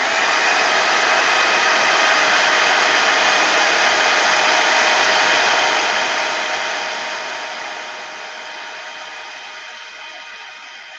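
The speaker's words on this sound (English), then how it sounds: "just using the heat tool to melt the powder" A handheld heat tool melting embossing powder gives a steady, loud blowing whir that holds for several seconds and then tapers off to a quieter level, with no talk over it.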